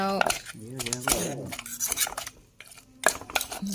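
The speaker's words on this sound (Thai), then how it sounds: "คนเอาเครื่องให้มันเข้ากัน" A spoon clinks and scrapes in a bowl while Northern Thai green chili dip ingredients are stirred together, short close knocks alongside someone talking.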